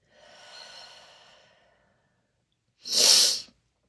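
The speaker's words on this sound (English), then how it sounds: "Just from all the crying, I'm a little mucusy. Just going to clear that out." After crying, a person clears mucus from the nose: a soft, drawn-out breathy sniff, then after a pause a short, loud, sharp nasal blow, close and alone.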